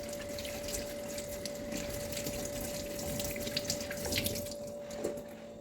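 A papaya is washed under a running kitchen tap, with a steady close stream of water splashing continuously and a faint tonal hum underneath.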